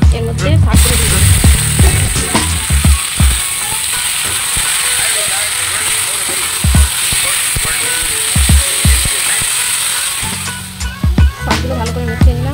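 Drumstick leaves frying with browned onions in a pan, a loud continuous sizzle with scattered clicks and scrapes, fading near the end.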